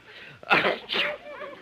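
A person with a cold gives a sharp double sneeze, two quick close bursts in a quiet room.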